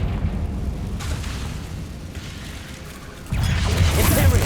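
A Confringo blasting spell explodes in Hogwarts Legacy, with a deep booming blast and rumbling debris that swells loudly near the end over a steady low background roar.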